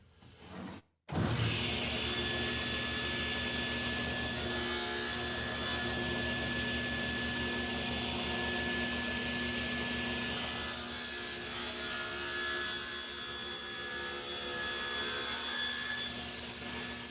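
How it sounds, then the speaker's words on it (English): A table saw with a ripping blade starts up and cuts a taper along a wooden table leg, a loud, sustained whine and grinding hum after a short quiet lead-in, steady to the end. "we can go ahead and turn the saw on and cut the taper"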